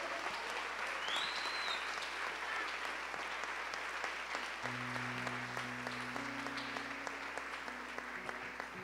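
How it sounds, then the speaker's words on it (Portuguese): Congregation applauding at a church service, steady dense clapping throughout, with a sustained tone and faint voices underneath. "você pode aplaudir o Senhor"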